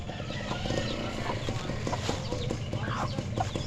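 Chickens on a farm, including a brooding hen, cluck softly and intermittently at close range over a busy, low background rumble.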